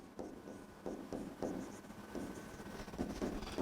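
A pen writing on paper during a math lesson, a string of soft scratchy strokes in short bursts, close and quiet, with no talking.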